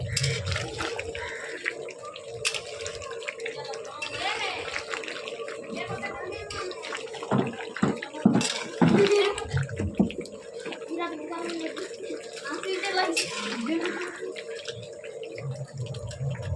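Water pours and splashes into a pot of mutton set to boil in a village kitchen, a continuous trickling with clanks of the pot, while a person talks over it.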